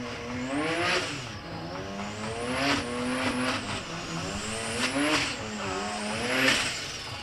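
A Toyota Hilux races at the SA Drag Nationals at Midvaal. A loud engine rises and falls in repeated revving sweeps, a harsh rasp under the pitch changes, heard alone with no talk.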